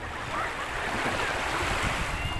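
Sea waves at a beach in Mabini, Batangas churn in a loud, steady wash of surf, with wind buffeting the microphone throughout.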